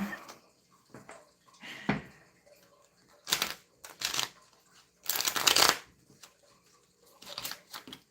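Thin, flimsy playing cards are shuffled close by in several quick riffling bursts separated by short pauses, the longest flurry coming in the middle.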